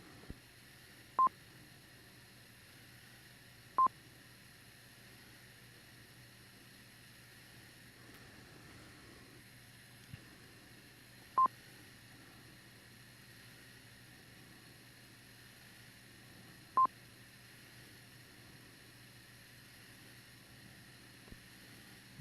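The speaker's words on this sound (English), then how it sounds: "there was quite a few beeps there in between, too, where maybe somebody was trying but not making it" Short electronic beeps come through a D-STAR digital radio repeater during an amateur radio net, four or five sharp isolated tones spaced several seconds apart over a constant faint hiss.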